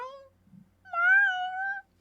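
A human voice imitates a kitten's meow, a short high cry followed by a longer drawn-out mew, close and clear, with no other sound around it.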